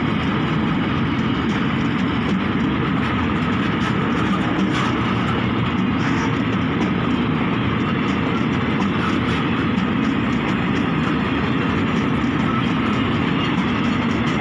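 A Thai express train, No. 633, rumbles past nearby, a steady heavy roar of wheels and engine that holds for the whole stretch.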